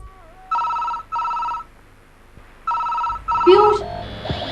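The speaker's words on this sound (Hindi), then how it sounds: "देख किसका फोन है" A telephone rings in short repeated bursts with pauses between, clear and close; a voice briefly speaks over the final ring.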